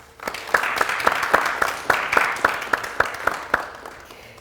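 A television studio audience applauds a guest filmmaker, with a clear rhythmic group clap of sharp, evenly spaced strikes over a softer wash of applause that fades at the end.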